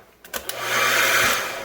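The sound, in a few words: blow dryer turned on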